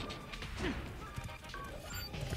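Glass smashes in the TMNT: Mutants in Manhattan video game, a short crash and shattering amid a dense wash of game noise and thuds.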